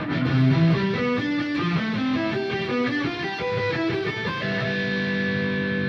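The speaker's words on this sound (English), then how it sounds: "If I just played this with this much distortion without palm muting" A distorted electric guitar picked without palm muting rings out with sustained, unmuted notes blurring into a dense, noisy wash that holds steady and loud.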